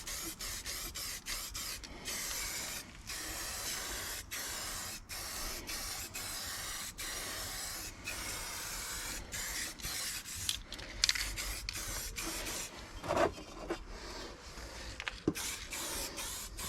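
An aerosol can sprays paint onto a car part while fitting a cold air intake on a Mk5 Golf GTI, producing repeated close hissing bursts separated by short pauses, with a few rubbing and handling noises near the end.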